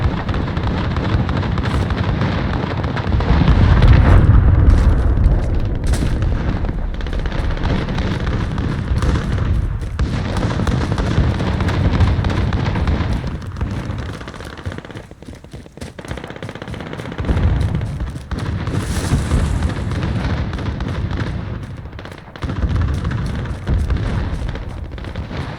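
Cruise missile blasts in Call of Duty Modern Warfare Ground War, with deep rumbling explosions over dense, continuous machine-gun fire and scattered cracks, loud and sustained.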